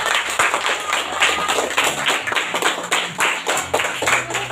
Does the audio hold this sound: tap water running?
no